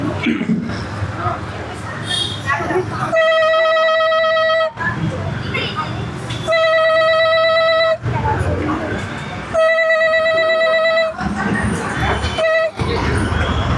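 A man imitates an old landline telephone ringing for an overseas call, producing three long droning tonal rings, each about a second and a half, separated by stretches of ordinary talk.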